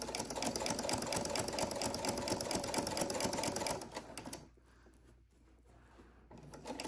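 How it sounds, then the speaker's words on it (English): A sewing machine stitches a quilted pot holder in a fast, steady mechanical chatter that runs for several seconds and then stops, leaving quiet room sound before a faint restart. "you're going to stitch right on across there until you get back to where you started"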